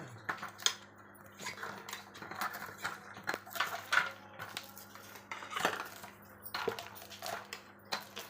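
Metal vessels from a new idli cooker clink and rattle as they are handled, with quiet, scattered metallic knocks and rings spread across the moment, close by and fairly soft.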